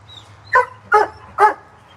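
A dog barks three times in a steady rhythm, loud and close, each bark short and punchy with quiet gaps between.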